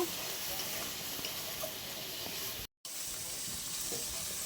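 Spice paste mixed with whipped yogurt sizzling in hot oil in a pan, a steady close hiss throughout with no talk.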